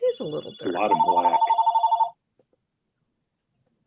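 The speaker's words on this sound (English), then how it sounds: "No, that's my phone. That's the house phone." A landline house telephone rings with a rapid electronic trill, clear and steady for about a second before stopping, while a person talks over the start of the ring.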